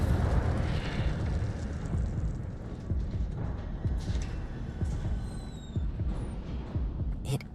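The Incendio fire spell is cast in Hogwarts Legacy, a steady roaring, crackling whoosh of flame with faint sparkling tones, sustained and fairly quiet throughout.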